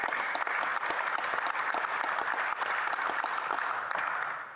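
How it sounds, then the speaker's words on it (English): Round of applause in the House of Commons chamber, a steady dense clapping from many members, moderately distant, sustained for several seconds before tapering off. "I would like to give Kayla a round of applause"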